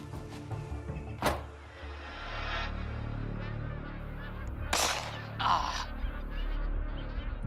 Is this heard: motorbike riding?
no